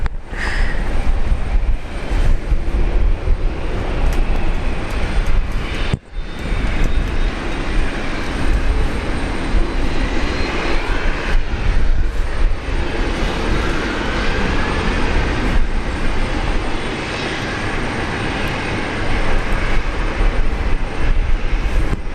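A Qantas airliner takes off from runway 19 left at Brisbane Airport, a loud continuous broadband engine roar held steady for over twenty seconds with only a brief dip, no voices over it.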